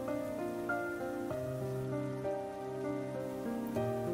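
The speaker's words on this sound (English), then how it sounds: "It's raining outside." Steady rain patters outside a window at night, a soft continuous wash under gentle melodic music with clear sustained notes running throughout.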